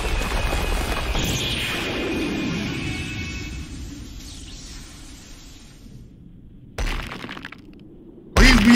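A burst of breaking, cracking glass-like debris as a Susanoo shatters in a fan-made Madara versus Whitebeard animation, under a dense, roaring soundtrack, followed by quieter moments and a couple of sharp late impacts.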